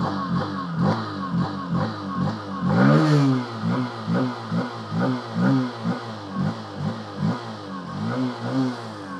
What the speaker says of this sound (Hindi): वो वाली मोटरसाइकिल होती है साउंड इसका ऐसा है कुछ थोड़ा देता हूँ